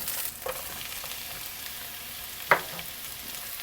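Chopped garlic and eggplant fry in oil with a soft, steady sizzle, broken by a few light clicks and one sharp knock of a utensil against the pan.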